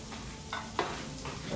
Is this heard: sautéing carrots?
yes